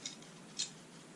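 A knife shaves a charcoal pencil with two short, soft scraping strokes, close and quiet against a low hiss of room noise.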